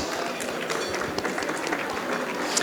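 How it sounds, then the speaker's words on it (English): Gala dinner audience applauding at a medical association's annual event: dense, steady clapping with crowd murmur throughout, heard briefly and fairly loud, as if in a large banquet room. "Please give yourself a big round of applause."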